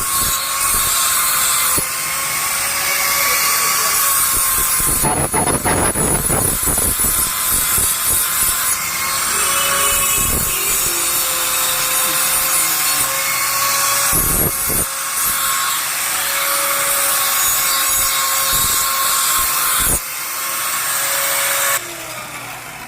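A knife blade is ground and sharpened on a powered wheel in an ironsmith workshop, a sustained high whining grind with several sharp bursts of heavier contact and brief pauses, loud and close throughout.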